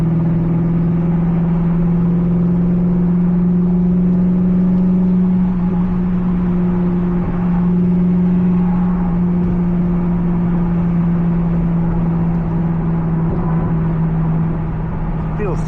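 Steady engine hum and road rumble from inside a moving C5 Corvette, continuous and fairly loud throughout.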